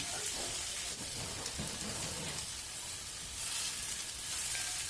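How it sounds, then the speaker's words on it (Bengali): Rohu fish roe sizzles steadily in a hot pan, a dense continuous crackle and hiss that holds close and even throughout, with no voices. "তারপরে আমি এর মধ্যে দিয়ে দেব দুশো গ্রাম মতো মাছের ডিম আমি এখানে রুই মাছের ডিম নিয়েছি"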